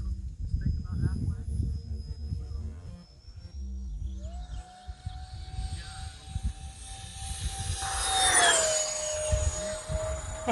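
An E-Flite A-10 Thunderbolt II RC jet with 64mm electric ducted fans whines past, its tone rising and swelling loudest near the end, with muffled talk over low handling noise early on.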